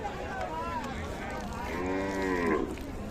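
A cow lets out a long, drawn-out moo, rising and falling, against the busy outdoor background of the Ambari cattle market in Dinajpur, with faint voices nearby.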